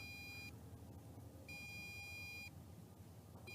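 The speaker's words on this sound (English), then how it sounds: "the remote control is beeping just a little bit" The remote control of an MJX Bugs 3 Mini brushless drone flying in acro mode gives a high electronic beep in one-second bursts, repeating at a steady interval over the drone's constant low whirring hum.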